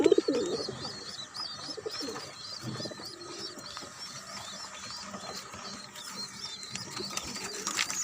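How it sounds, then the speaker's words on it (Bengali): Soft, low pigeon coos repeat under a busy chorus of high bird chirps and twitters outdoors in a rooftop garden. "নিচে কবুতর"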